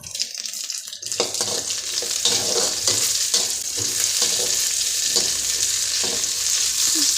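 Curry leaves drop into golden onions frying in a pan, setting off a loud, bright, sustained crackling sizzle with repeated stirring strokes throughout, no talking.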